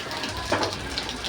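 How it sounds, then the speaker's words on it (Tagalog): Rain falls at midday outdoors near potted plants, a soft continuous patter and hiss with a brief louder splash in the middle. "Oh, naulan pala talaga guys."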